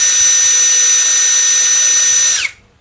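A Gtools GT12P 16-volt drill driver runs near 1400 rpm at maximum speed 2, giving a loud, close, steady high whine that dips in pitch and winds down as it is switched off.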